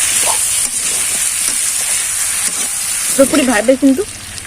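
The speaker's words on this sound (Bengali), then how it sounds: "আলুটা দিয়ে আরেকটু ভালো করে নেড়ে চেড়ে নেব।" Fried potatoes stirred into browned chicken in a pan, giving a steady loud sizzle with scraping stirs, while a voice speaks briefly near the end.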